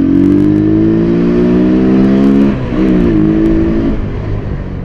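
Motorcycle accelerating hard enough to lift its front, a loud close engine roar climbing in pitch, dipping briefly at a gear change, then climbing again.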